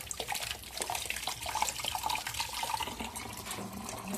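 Dishes being washed under a running tap in a home kitchen, a steady close rush of water with light splashing and clatter throughout, and no talking.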